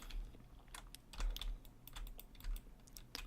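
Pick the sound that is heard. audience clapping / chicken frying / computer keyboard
computer keyboard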